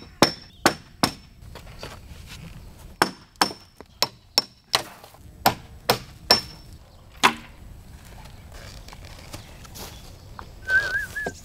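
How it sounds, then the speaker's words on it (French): Hammer strikes on a chisel chip old render off a building facade, sharp metallic knocks in irregular bursts over several seconds, close and loud, with faint birdsong in the background. "L'enduit doit ensuite être entièrement retiré, avec un marteau et un burin."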